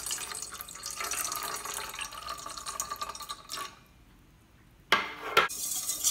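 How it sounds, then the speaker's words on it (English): Hotcake batter with evaporated milk being stirred in a bowl: a steady wet clatter of whisking runs for about three and a half seconds, goes quiet, then returns in louder bursts near the end, with no talking. "Ayan, continuous lang paghalo"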